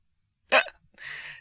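A single voice imitates a hiccup, giving a short sharp gulping inhale followed by a softer, breathy hiss, close and alone with no other talk.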